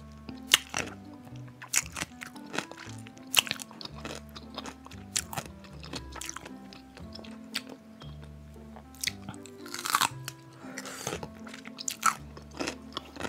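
Crunchy pickle bitten and chewed up close for ASMR, sharp cracks and wet crunching bites at irregular intervals with squishy chewing between.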